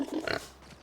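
A pig on a farm near a straw-covered hut gives a brief, fairly quiet grunting snort, under a second long, with faint farmyard ambience after.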